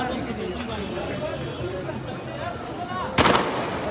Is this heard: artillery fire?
yes